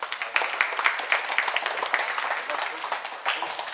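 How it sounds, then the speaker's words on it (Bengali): An audience at a modest school-style event claps hands in a lively burst honoring a songwriter, quick overlapping claps with a few sharper individual strikes, steady and close for several seconds. "আবার একটু হাততালি দাও"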